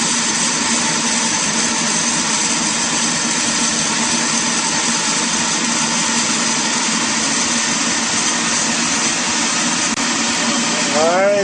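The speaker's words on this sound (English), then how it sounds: "This is going to start making noise. Blowing the beans around there." A Sonofresco coffee roaster blowing beans around with a loud, steady fan roar that runs unbroken the whole time, close by, with no talking over it.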